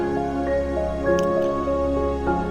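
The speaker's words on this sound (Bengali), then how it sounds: "সামান্য একটু পানি দিয়ে নিলাম।" Water is poured into a pan of new potatoes and flat beans being stir-cooked, giving soft wet squishing and dripping sounds over a steady stove hum, close by and continuous.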